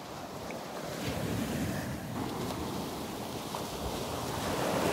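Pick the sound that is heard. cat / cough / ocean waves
ocean waves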